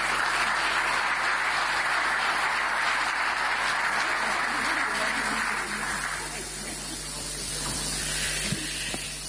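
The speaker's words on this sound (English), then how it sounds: "Give her a warm round of applause." Audience applause at the EU-African Union summit business forum hosted in Angola: a dense, steady wash of clapping fills the hall, then thins and fades out after about six seconds.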